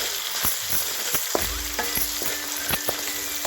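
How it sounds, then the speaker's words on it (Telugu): Ginger garlic paste frying with onions in a pan for a tindora masala curry, a steady hiss with repeated sharp scrapes and taps of a stirring spoon, close and fairly loud with no talk. "ఈ అల్లం వెల్లి పేస్ట్ కొంచెం పచ్చివాసన వరకు ఫ్రై చేసి"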